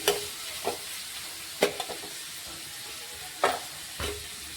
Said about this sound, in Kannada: ಇವೆರಡನ್ನೂ ಒಂದು ಸ್ವಲ್ಪ ಚೆನ್ನಾಗಿ ಫ್ರೈ ಆಗ್ಬೇಕು ರೀ ಒಂದು ಸ್ವಲ್ಪ ಕಲರ ಚೇಂಜ್ ಆಗೋ ತನಕ ಫ್ರೈ ಮಾಡ್ಕೋತೀನಿ